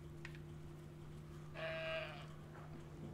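A sheep in Brothers: A Tale of Two Sons gives one short, faint bleat over a quiet steady hum and soft background ambience.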